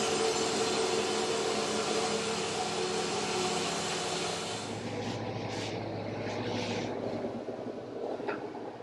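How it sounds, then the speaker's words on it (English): A shop air compressor runs steadily with a dense broadband drone that holds loud, then eases and thins partway through as it nears shutoff. "let's wait till the fucking air compressor shuts off"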